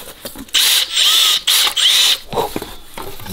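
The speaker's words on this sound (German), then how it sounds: "Kappe lässt sich nämlich tatsächlich bohren." A power drill bores into a metal cap on a rear-axle bracing job for an Audi RS4 sedan, whining loud and close in three sustained bursts broken by short pauses, then spinning down.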